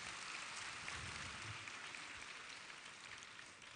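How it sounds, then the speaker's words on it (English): A conference audience at a tech festival in Europe claps after a speaker is introduced, soft, distant-sounding applause that holds steady and slowly tapers. "A round of applause for him."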